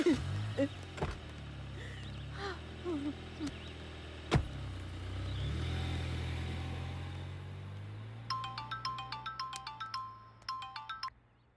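A car in a dramatic film scene: a couple of door thunks, then a low engine rumble that starts up and pulls away, fading slightly, while a phone ringtone beeps in bursts over the end.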